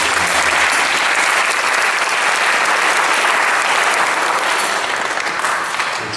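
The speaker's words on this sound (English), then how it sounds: "so give a round of applause for him." Loud, sustained applause from a kirtan audience in a chapel, dense crowd clapping filling the room evenly for several seconds before easing off at the end.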